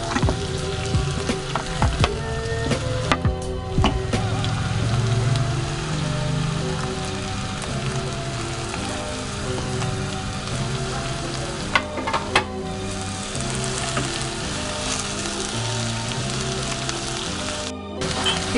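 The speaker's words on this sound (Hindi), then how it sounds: "इसमें आप प्याज डालेंगे।" Chopped onion frying in hot oil in a pan gives a dense, continuous sizzle like heavy rain, with scattered spatters and occasional stirring knocks across the whole stretch, and no voices.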